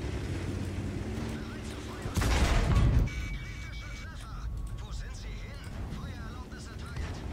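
A tank's main gun fires once in World of Tanks, a VK 2801 on the Himmelsdorf map, giving a single loud booming blast amid engine rumble while someone talks over it.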